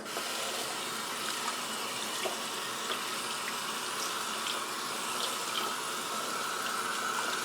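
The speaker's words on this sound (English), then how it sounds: "I'm going to give the meat a little rinse under some lukewarm water." Lukewarm tap water runs steadily over cuts of moose meat in a sink, a continuous even gush with no talking.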